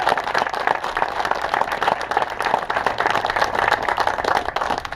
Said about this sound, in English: please join me in a round of applause for the soldier of the 40th ESB